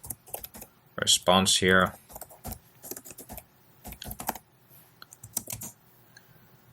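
Keys clatter on a computer keyboard in quick bursts with pauses, close and clear, while someone speaks briefly partway through.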